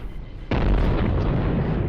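Flak cannons firing at an interceptor in the space combat game Infinity: Battlescape, a sudden loud blast after a quieter moment, then a sustained heavy rumble of close, rapid detonations.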